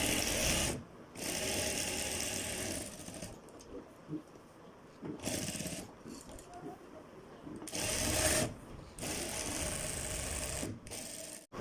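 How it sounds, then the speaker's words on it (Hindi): A sewing machine stitches along a fabric band on an Afghani-style kurta in bursts of rapid, close whirring, several runs separated by short pauses with quiet handling noises between them. "अब फाइनल इस पर हम फ्रेंड्स स्टिचिंग अप्लाई कर देते हैं तीनों तरफ से।"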